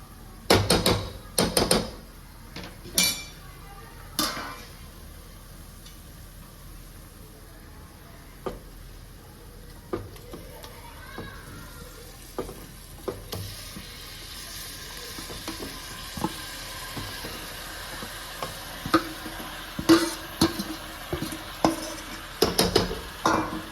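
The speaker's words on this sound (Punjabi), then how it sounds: "ਚਿਕਨ ਨੂੰ ਆਪਾਂ 6-7 ਮਿੰਟ ਤੱਕ ਇਸੇ ਤਰ੍ਹਾਂ ਹੀ ਭੁੰਨਾਂਗੇ ਚੰਗੀ ਤਰ੍ਹਾਂ ਮਿਲਾ ਲਾਂਗੇ" Marinated chicken fries in a pan over a medium gas flame, a soft steady sizzle broken by frequent clattering stirs and sharp utensil knocks against the pan, loudest at the start and end.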